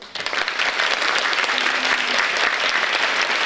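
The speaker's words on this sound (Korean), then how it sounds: "학생 여러분은 큰 박수로 수상 학생들의 큰 노고를 취하해 주시길 바랍니다" A school assembly audience applauds award-winning students, steady dense clapping from a large crowd filling the hall throughout, with a brief faint voice underneath.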